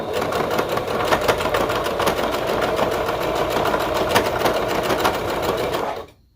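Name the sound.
sewing machine base stitching a leotard sleeve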